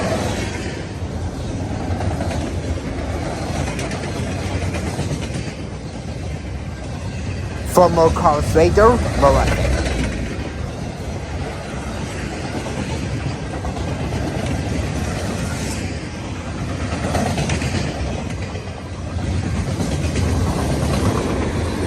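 CN freight train X317 from Toronto to Winnipeg rolling past with military tanks and trucks aboard, a continuous rumble with a burst of clattering wheel noise midway, while someone talks over it.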